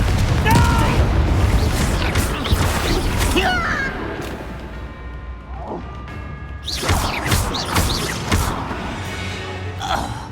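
Confringo spell blasts in the Hogwarts Legacy video game, several loud booming cracks and thuds in bursts, the loudest near the start and again later, with gasps and spoken lines mixed in.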